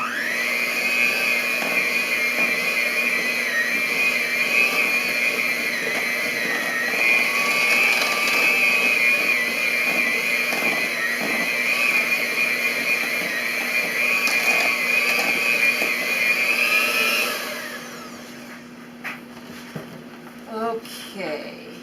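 Electric mixer whirring steadily as it beats quick bread batter, a constant high motor whine that runs for most of the time and then stops, with a few faint kitchen clatters afterward.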